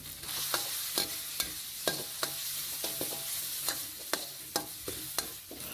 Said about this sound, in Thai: ใส่เครื่องที่เราโขกไว้เมื่อกี้นี่ครับ ลงไปผัดให้หอมเลยนะครับ